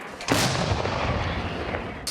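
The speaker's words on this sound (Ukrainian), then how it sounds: "влучна гармата М 46 випускає по ворогу снаряд за снарядом" An M-46 field gun fires one booming shot that rolls and echoes for over a second, then a second sharp blast begins at the very end.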